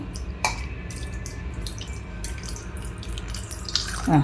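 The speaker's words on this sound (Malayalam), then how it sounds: "ആ പുളി വെള്ളം ഇതിൻ്റെ മുകളിലേക്ക് കുറച്ച് ഒഴിച്ചു കൊടുക്കാം" Tamarind water poured in a short trickle over fish curry (sardine), faint splashing and dribbling with a few soft clinks, no talking.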